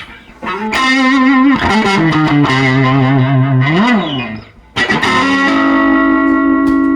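Electric guitar through a vintage 1962 Magnatone 410 amp on a mellow setting, effects-laden tone, playing sustained bending lines with chorus and reverb, a brief pause midway.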